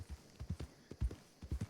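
Hooves clip-clop on the ground in quick uneven pairs as a horse backs up in the RedM video game, close and clear with no speech over them.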